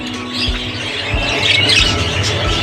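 Budgerigars in a breeder colony, several bird types housed together, give bright chattering squawks and chirps throughout, a dense steady flock noise with no talking.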